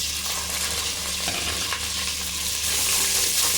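Onions sizzling in oil in a pan with whole spices for mutton pulao, giving a steady, fairly loud frying hiss with faint stirring scrapes and no voices.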